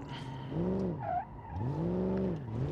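A Dodge Coronet 383 in BeamNG.drive revs hard, its engine note swooping up and down twice while the tires scrub and squeal faintly through a parking-brake slide.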